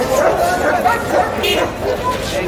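A dog barks and yips repeatedly at a busy Friday street dog market, the barks mixed with crowd chatter and nearby voices talking over them.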